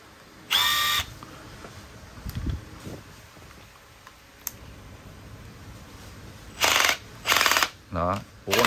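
A Makita oil-pulse impact driver, a quiet cordless screw driver, whirs in a short burst and then in three louder runs near the end, with a voice talking in between.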